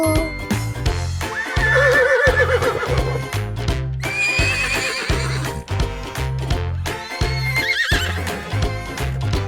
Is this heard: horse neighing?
yes